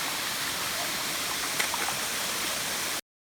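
A mountain waterfall on a hiking trail roars as a steady, dense rush of falling water, close and even for about three seconds before cutting off abruptly, with no voices.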